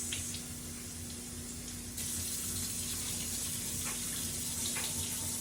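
A tap runs steadily while sprout jars are rinsed, giving a continuous close hiss of flowing water with a low hum beneath and a slight jump in level partway through.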